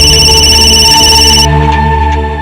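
A telephone rings loudly and close, a bright continuous electronic bell tone that sounds steadily before cutting off partway, leaving a fading tonal tail.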